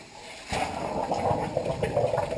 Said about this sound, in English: It's pushing all the air out of the radiators.